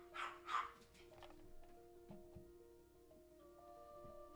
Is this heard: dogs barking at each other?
yes